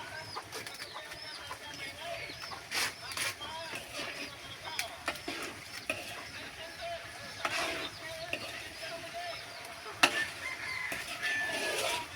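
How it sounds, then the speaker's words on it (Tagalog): Chickens cluck and call here and there around the yard, with other birds and a voice talking over them throughout. "Manok dito."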